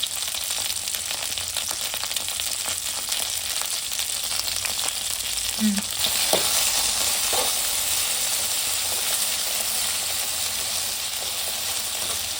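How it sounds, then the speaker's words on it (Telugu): Okra sizzles steadily in a hot pan while pickle is being made, with a few brief scrapes and knocks of stirring breaking through the constant frying hiss. "కొద్దిగా ఇప్పుడు తిప్పుకుందాం"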